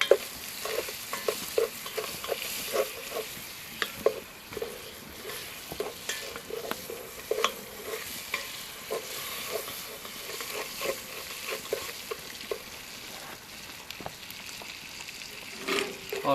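Butter stirred into caramelized sugar in a pan: a continuous close sizzle with repeated scraping strokes of a spoon in a steady, uneven rhythm, no talking.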